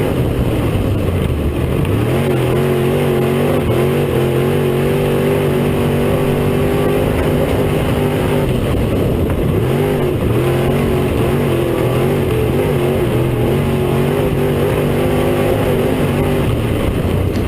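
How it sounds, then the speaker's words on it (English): Several race cars roar around a dirt oval at Cedar County Raceway in the season's first race, their engines droning loud and close with steady rising and falling revs that overlap continuously, with no talk. "him and Kai are running the high side all the way around"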